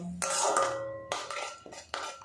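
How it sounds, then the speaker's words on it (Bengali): Grated tomato stirred in a pan, heard as a few sharp metallic clinks and scrapes of a utensil against the pan, close and fairly loud, with no voice. "টমেটোটা একটু হালকা করে নাড়াচাড়া করে নেব, এতে টমেটোর যে কাঁচা গন্ধ ওটা চলে যাবে।"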